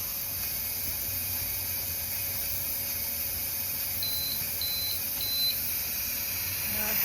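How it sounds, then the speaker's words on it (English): A VacMaster canner beeps three short, faint, high tones in quick succession over a steady background hiss and hum while sweet corn is being canned. "When it gets down to E0, it will beep, and that will let me know that I need to switch this to airtight"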